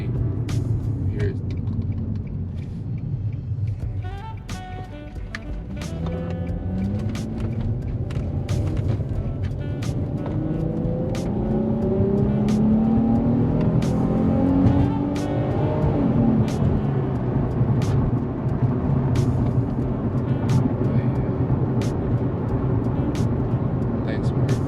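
A 2004 Infiniti G35 fitted with a Stillen Z tube exhaust revs repeatedly, deep rumbling engine notes rising and falling under ongoing conversation between people nearby.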